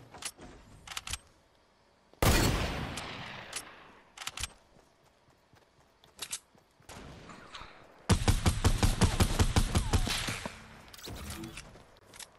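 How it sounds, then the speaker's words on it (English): Gunfire in Fortnite, sharp isolated shots and short bursts separated by pauses, with two loud sustained volleys of rapid automatic fire, fairly close and punchy. "I'm getting shot at from up on the hill"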